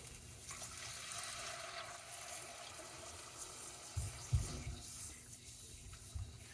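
Water poured into a pan holding a cup of rice, a faint, steady running pour with a few soft knocks, no voices.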